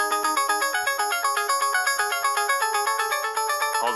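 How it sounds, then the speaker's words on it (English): A bright, plucky synth melody built from a wavetable in Serum plays alone: short, rhythmic notes repeating quickly in a steady, bouncy pattern. "From there, I'll craft this plucky sound melody."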